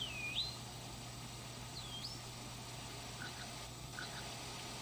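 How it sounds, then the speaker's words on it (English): Birds calling over a steady outdoor background of frogs and rushing water, a few rising whistled chirps standing out faintly in the first seconds and short soft calls later. "Birds here with the frogs,"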